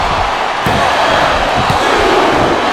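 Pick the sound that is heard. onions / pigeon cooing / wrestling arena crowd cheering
wrestling arena crowd cheering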